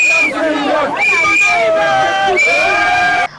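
A crowd of supporters awaiting Simone Gbagbo shout and scream in loud, sustained bursts of high-pitched cheering and ululation, several swells in quick succession under general hubbub.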